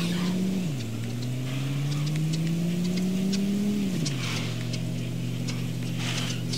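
A beat-up car's engine in a road-trip video game revs and accelerates, its pitch climbing, dropping at gear changes, and climbing again, loud and close with no speech.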